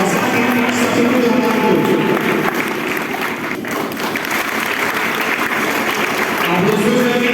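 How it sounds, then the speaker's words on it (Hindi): An audience at a coaching centre ceremony for board exam toppers applauds steadily and loudly, a dense wash of clapping with crowd voices mixed in throughout. "आपको तालियों से स्वागत करिएगा"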